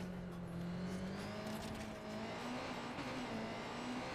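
A small motorbike in Watch Dogs 2 holds a steady engine drone, its pitch creeping upward as it rides along continuously, fairly quiet, with no talk over it.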